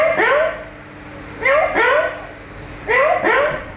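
A show bird at a Malaysian bird show imitates a puppy barking, with three close pairs of sharp, yelping barks spaced about a second and a half apart and faint background noise between them.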